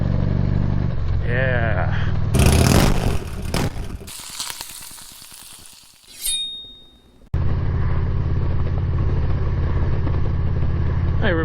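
A motorcycle engine runs steadily while riding up winding uphill curves, a continuous loud drone broken by a brief burst of wind and rumble, with a short spoken remark over it.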